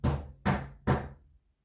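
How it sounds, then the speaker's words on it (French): Three firm knocks on a door, evenly spaced about half a second apart, close and sharp, followed by silence. "tu ne tapes plus à ma porte."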